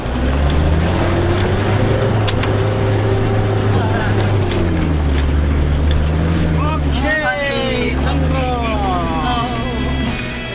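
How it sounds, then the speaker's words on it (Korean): A vehicle engine drones steadily while climbing uphill on a rural mountain road in the Karen region, a loud continuous rumble with wind buffeting the microphone and a voice speaking partway through. "힘찬 엔진 소리와 함께 오르기 시작했다."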